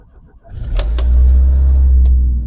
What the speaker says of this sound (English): I'll give you a little light rev.